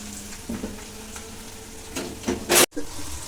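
Onion pieces sizzle in a pan for a prawn masala curry, a close, steady frying crackle with a few stirring scrapes and one loud burst near the end.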